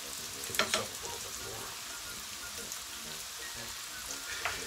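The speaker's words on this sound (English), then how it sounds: "So this is going to start to fry." Potatoes sizzle and crackle steadily in hot oil in a kitchen, a continuous frying hiss with occasional pops, close by and moderately quiet.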